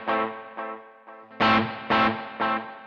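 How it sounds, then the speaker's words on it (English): Electric guitar through a Joyo Aquarius multi-mode delay pedal set to tube echo: slightly dirty chords struck in sequence, each leaving repeats that decay, with a regular rhythm of strums and echoes. "Incidentally, that's the tube echo, right?"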